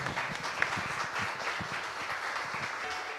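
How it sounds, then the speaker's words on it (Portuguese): A congregation at the close of a live church service applauds, a soft, steady bed of many hands clapping at a distance, even in level, with no speech over it. "Palmas ao Senhor."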